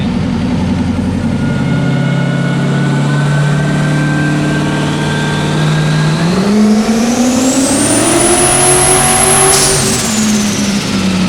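A high-horsepower car, aiming for over 1,000 hp, runs on a dyno and spins its wheels, its engine loud and close as it holds a steady drone, then climbs sharply in pitch before cutting off abruptly.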